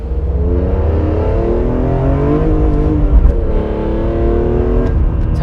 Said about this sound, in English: people really love about the CSL is the carbon airbox and the noise it makes